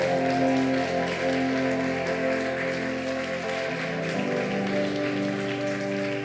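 A church congregation applauds at a sermon, dense sustained clapping from many hands filling the room over lingering organ or keyboard tones, steady and fairly loud throughout.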